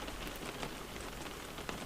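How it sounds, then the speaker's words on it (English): Rain falls steadily in Bonifacio, Corsica, a dense, even patter of drops hitting hard surfaces, loud and close throughout with no voices. "even when it's raining"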